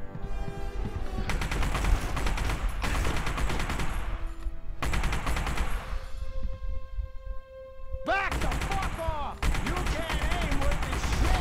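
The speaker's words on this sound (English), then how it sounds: "Oh my god, this gun is the worst." Gunfire from a weapon in the PC shooter game The Punisher, loud bursts of shots spread across the scene with busy game noise and tonal effects in between.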